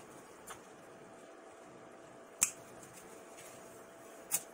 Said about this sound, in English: so you wanna cut mature leaves. You don't want to cut the babies.